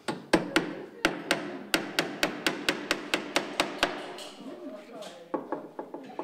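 A hammer drives nails into wood while a rabbit cage is built, with a run of about fifteen sharp, evenly spaced blows, then a short pause with faint background noise, then a few quicker taps, loud and close.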